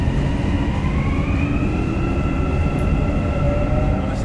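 Dubai Metro train running between stations, a steady loud rumble with rising and falling whine from the motors, continuous and close with no voices.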